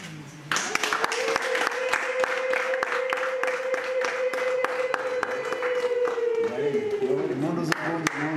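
Guests at a Rwandan wedding clap in a steady rhythm while a long, sustained ululating cry rises above the applause and then fades, with crowd voices mixed in.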